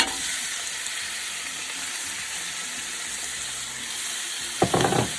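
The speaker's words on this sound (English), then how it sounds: "I'm going to add a couple tablespoons of olive oil to the pot here, and I'm going to throw in my steak that I've cut up" Cut-up steak sizzling in olive oil in a pot, a continuous loud hiss of frying with a brief clatter of a utensil near the end.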